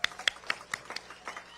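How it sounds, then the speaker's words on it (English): A small audience claps for newly sworn-in Climate Action Corps fellows at a Riverside community climate event, giving a short round of sparse, uneven claps close by, with a voice faintly in the background. "Let's give them a big round of applause."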